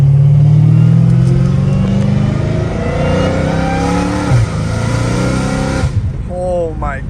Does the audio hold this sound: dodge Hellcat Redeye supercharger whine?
yes